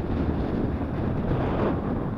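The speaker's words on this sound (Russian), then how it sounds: "И такой сильный штормовой ветер сегодня." Strong storm wind by the Gulf of Tallinn roaring and buffeting against a microphone, a constant low rumble with gusty fluctuations throughout.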